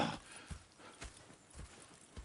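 Horse hooves clip-clop in Red Dead Redemption 2 in a slow, evenly spaced walking rhythm, faint and fairly distant, with a short whinny right at the start.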